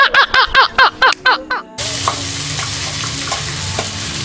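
Stirring a pot while the secret seasoning is mixed in, heard as a series of short, even scrapes over about a second and a half, then a steady close sizzling bubble with a few soft clinks.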